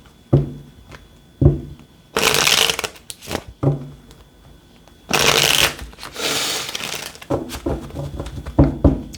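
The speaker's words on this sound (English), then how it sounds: "Last shuffle here." Tarot cards shuffled by hand in repeated bursts, close and crisp, with riffling rustles alternating with soft pauses and light taps; a voice speaks briefly between shuffles.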